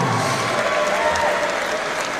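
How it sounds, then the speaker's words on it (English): Steady, dense applause from a boxing audience after the fight decision, filling the hall evenly with a faint crowd murmur and a little voice underneath. "can we please have a big round of applause"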